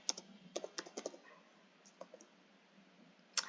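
Quick clusters of light key clicks from typing on a computer keyboard, a burst of taps, a pause, then a few more, close and quiet with no talk.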